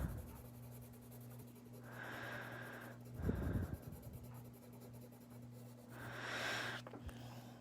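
A pencil or marker sketches the cartoon elephant Dumbo by hand on paper, with long soft scratchy strokes and a faint breathy rub partway through, close and quiet against a low steady hum.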